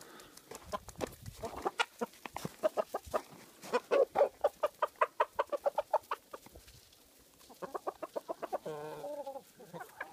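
A flock of hens clucks busily nearby in quick rapid bursts while being fed superworms in winter, pausing briefly before another run of clucking and a few squawks.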